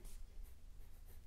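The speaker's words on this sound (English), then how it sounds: "I'm going to write it on here first." A pencil scratches across a scrap piece of paper, writing out words in short, soft strokes, close and quiet with no talking.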